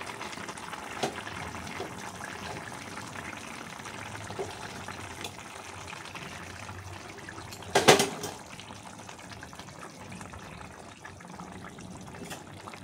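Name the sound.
curry gravy with fish boiling in a pot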